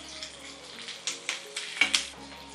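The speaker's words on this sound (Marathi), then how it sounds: "कांदा जास्त लाल करायचा नाही आहे आपल्याला, रेड ग्रेव्ही करतोय तर सौते करून घ्यायचा आहे फक्त" Chopped onion sautés in a pan for a red gravy, a soft, continuous sizzle marked by a few close stirring scrapes, with no talking.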